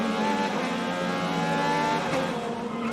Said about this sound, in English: Push wide, cars going by.